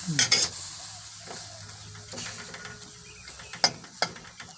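Onion and garlic frying in a pan while being stirred, with steady sizzling and a few sharp scrapes of the utensil against the pan, near and clear with no talking.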